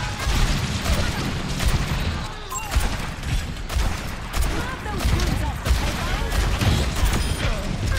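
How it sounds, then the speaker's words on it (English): Junkrat's grenade launcher fires repeatedly in an Overwatch 2 match. Rapid bursts of bangs and explosions overlap in a dense, chaotic barrage of game combat noise. "All of us in a singular room with Junkrat spamming his nade launcher."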